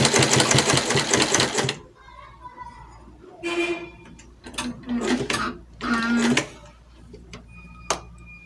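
A sewing machine stitches together two layers of fabric for an off-shoulder princess bustier, running in a loud steady burst, then in several shorter runs separated by pauses.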